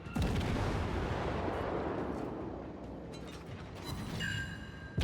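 Warship main guns fire in a World of Warships naval battle, a heavy booming blast that rolls into a long rumbling decay, with a few sharper shots and distant impacts layered on top.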